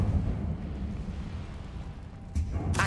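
Incendio fire spell cast in Hogwarts Legacy: a steady low rumbling roar of flame and rushing air, then a sharp brighter whoosh burst near the end, with no voices.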